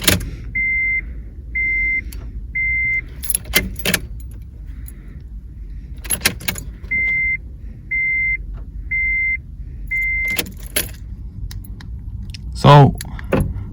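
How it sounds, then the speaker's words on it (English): A DIY car key goes into a car's ignition with light key jangles and clicks, while a steady series of electronic beeps sounds in regular groups and a voice speaks briefly. "now we're inserting the key DIY key."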